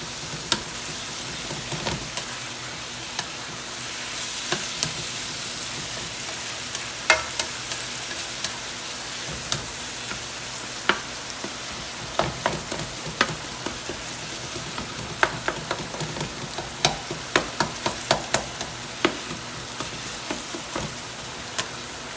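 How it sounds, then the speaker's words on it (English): Chicken samosa filling fries in a pan with a continuous close sizzle, while a spoon repeatedly scrapes and taps through the mixture in irregular clicks as it is stirred. "I'm gonna let this fry down and let some of the liquid absorb"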